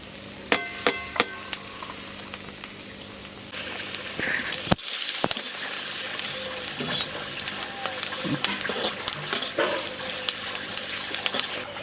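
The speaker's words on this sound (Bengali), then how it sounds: "নিম বেগুন করার জন্য নিম পাতাটা ভেজে নেবো এখন" Neem leaves fry in a hot pan for a neem-and-eggplant dish, giving a steady, moderate sizzle with scraping and clattering stirs throughout and a few brief clanks.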